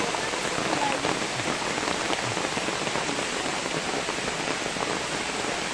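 Heavy rain falls steadily and densely at a waterfall, a continuous close hiss of drops pattering on surfaces with no pauses.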